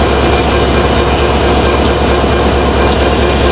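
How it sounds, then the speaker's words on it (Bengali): A Bangladeshi train engine idles at Joydebpur station, giving off a loud, steady, heavy rumble with a constant low drone and no pauses. "এটি হচ্ছে ট্রেনের ইঞ্জিন"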